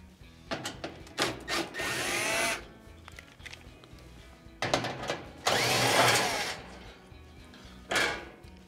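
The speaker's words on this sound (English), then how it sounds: "First, to remove the front panel, we'll have two Phillips head screws going straight up and in on the left and right side." Screws are backed out of the front panel of a Frigidaire gas oven with a power driver. There are several short whirring bursts separated by pauses, plus a few knocks and clicks from handling. No one speaks.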